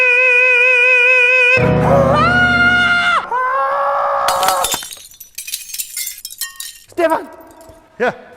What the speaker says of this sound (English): I made the glass break.